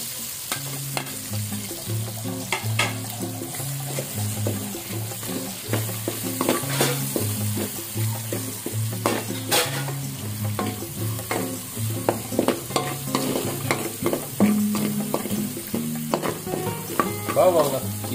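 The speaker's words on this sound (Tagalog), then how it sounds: "magigisa na tayo" Cooking sounds at a pan before garlic and onion go in for blue marlin fish steak: a steady sizzle broken by frequent clinks and scrapes of stirring and utensils, close and fairly loud, with no talk.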